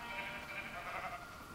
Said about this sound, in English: I'll spawn sheep in here